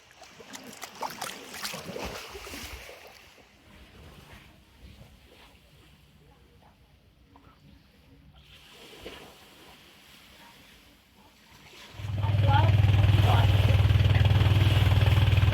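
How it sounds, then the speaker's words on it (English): A long-tail boat's engine near a quiet island beach in the Surin Islands, Thailand, starts up loud and close with a steady low drone after a stretch of soft talk and ambient sound. "Apart from the long sail boat going past"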